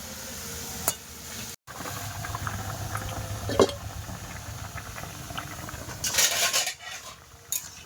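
Potatoes boiling in a pot on a home kitchen stove give a steady, soft bubbling hiss, with a few clinks of utensils and a brighter burst of hissing near the end.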